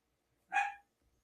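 A small, yippy puppy gives a single short, high bark, faint and somewhat distant, in an otherwise quiet room.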